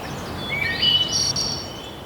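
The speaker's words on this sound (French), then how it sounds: "Le printemps qui est là, les petits oiseaux chantent." Small birds sing in spring over a vacant grassy lot, giving thin high chirps and twittering phrases that stand out against a steady outdoor hiss, at a moderate distance.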